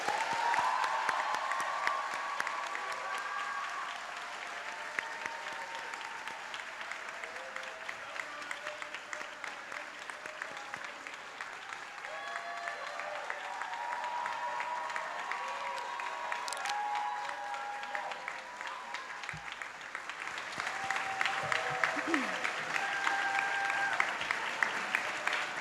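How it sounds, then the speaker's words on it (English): Families, friends and colleagues applaud the community health class of 2026 at a commencement, a long, sustained clapping from a large crowd with scattered cheers, dipping slightly midway and swelling again toward the end. "please join me in applauding the graduates of the class of"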